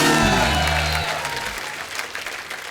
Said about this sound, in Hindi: एक बार खुल के तालियां हो जाएं।